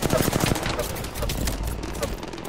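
Rapid gunfire in the battle game Apex Legends, a dense run of close shots throughout, fairly loud and continuous with faint talk mixed in.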